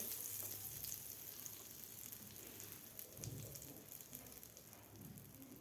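Buttered sandwich bread sizzles on a hot tawa over medium gas, a steady soft crackling fry that continues evenly throughout with no voices.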